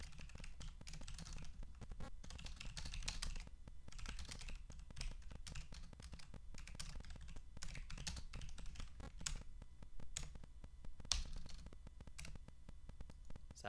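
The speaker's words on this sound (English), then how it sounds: "Like I'll just do like a little typing demo." Mechanical keyboard with Roamer switches being typed on in a quick demo, a steady stream of close, soft clacky keystrokes with brief pauses and a low background hum, no talk.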